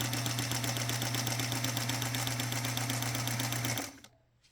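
A Singer Featherweight sewing machine runs steadily during free motion quilting, its close, continuous rapid needle chatter and motor hum holding for about four seconds before stopping abruptly.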